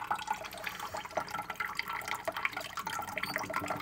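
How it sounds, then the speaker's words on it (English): Weak trickle of water from a kitchen faucet in an apartment with low water pressure, a thin, steady splashing and dripping heard close up with no talking. "This is the water pressure I've had since March 26th."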